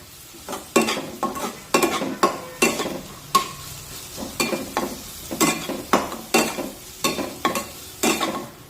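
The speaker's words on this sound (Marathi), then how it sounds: "आता यामध्ये अर्धा चमचा आले लसूण पेस्ट टाकूया आणि आले लसूण पेस्ट सुद्धा एखाद मिनिट छानपैकी परतून घेऊया" Ginger garlic paste being stirred with onions in a frying pan, a soft sizzle beneath regular sharp scrapes of a spoon against the metal, about two strokes per second, close and clear.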